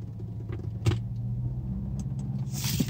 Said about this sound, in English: You can hear the weird vibration, right?